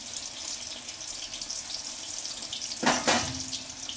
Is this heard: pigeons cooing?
no